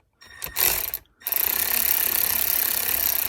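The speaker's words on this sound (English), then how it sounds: "So now I got a ratchet, and now we're just going to take off that T27 under there." A hand ratchet works loose a T27 bolt on a Ford F250, with a couple of short bursts followed by a fast, continuous clicking run, close and fairly loud.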